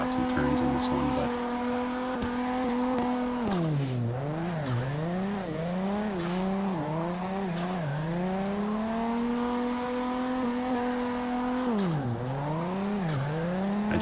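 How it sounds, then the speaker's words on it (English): Engine of the Samurai II drift car in CarX Drift Racing 2, held near the rev limiter with a steady loud drone that dips and surges through repeated shifts and throttle lifts, with tires squealing underneath throughout. "hoping the audio comes through okay over the sound of the vehicle"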